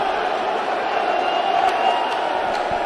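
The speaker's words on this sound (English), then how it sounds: "They're cheering the two boxers on." Boxing fans at a live bout roar continuously as a dense, loud crowd, a steady wash of cheering and shouts with occasional whoops standing out.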